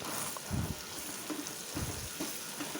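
Onion pieces frying in oil with grated raw mango, a low, faint sizzle broken by soft, rhythmic stirring thumps about once a second, with no talk.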